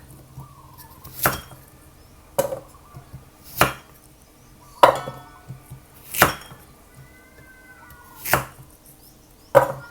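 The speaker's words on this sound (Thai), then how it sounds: "ก็หั่นเป็นชิ้น ๆ อย่างนี้เลยค่ะ ชิ้นเล็กชิ้นใหญ่ตามแต่" Steady chopping of vegetables into pieces on a cutting board, a sharp knife strike every second or so, crisp and close, with no talking.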